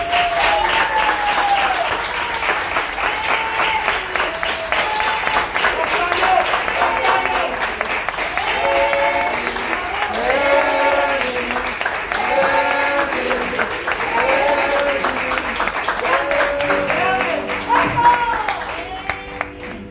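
A concert audience applauds loudly through an encore, with sustained clapping and crowd noise running for about twenty seconds. Voices cheer and whoop over the clapping.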